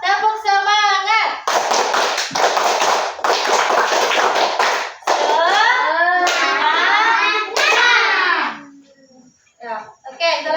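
A class repeats the 'tepuk semangat' spirit clap, a close, loud run of rapid rhythmic hand claps lasting several seconds, followed by children chanting and a teacher talking.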